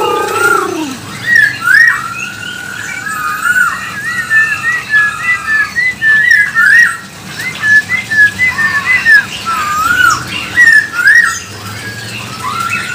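A magpie robin (murai) sings loudly and close by, a long run of varied clear whistled phrases and quick warbles broken by short pauses, with no voices.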